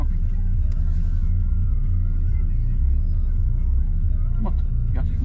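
A car engine idles and rumbles low and steady during a night driving lesson, with voices talking over it and a couple of brief clicks near the end.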